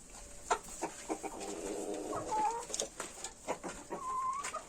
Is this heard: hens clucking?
yes